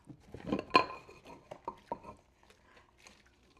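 Dishes and baking utensils washed in a kitchen sink after baking donuts: a few clinks and clatters of pots, cutlery and glass, one sharp knock near the start, then softer scattered handling sounds, fairly quiet and with no talking.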